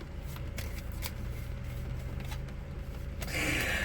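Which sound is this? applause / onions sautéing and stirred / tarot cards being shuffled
tarot cards being shuffled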